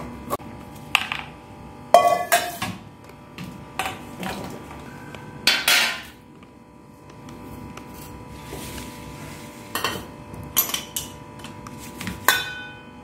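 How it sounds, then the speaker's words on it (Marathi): A knife cuts five lemons on a board for a sweet jaggery lemon pickle, making sharp irregular chops and taps with soft squishy slices between them, close up and with no talk. "ही 5 लिंब जो रस आपल्याला लोणच्यामध्ये घालायचा आहे त्याच्यासाठी चिरून घेते।"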